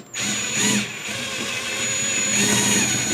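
A power drill bores the heads off rivets on a Radio Shack regulated power supply case. One loud, close, continuous whirring run starts abruptly, dips briefly, then holds steady with no talking.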